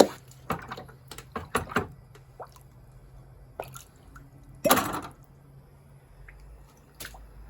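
Scattered sharp ticks and crackles with a brief louder hiss midway as a hot glass bottle is quenched in water, in an otherwise quiet space.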